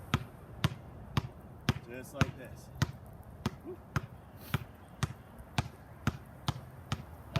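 A basketball is dribbled low and pushed down with the finger pads, giving a steady rhythm of about a dozen sharp, close bounces, with a voice speaking briefly between them.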